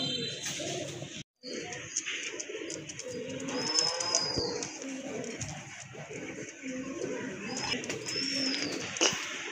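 Large Borpayra pigeons, a red-coloured pair offered for sale in Gopalganj, coo softly and repeatedly against a busy, noisy background, with a brief drop-out near the start.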